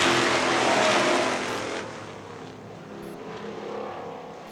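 Race cars pulling away at the start of a final heat race, a loud roar of engines near at first, then fading and thinning as the pack moves off into the distance.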